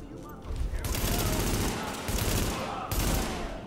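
Rapid loud gunfire bursts in The Division video game, dense repeated rifle shots in two or three volleys with brief gaps, close and dominant, while someone talks.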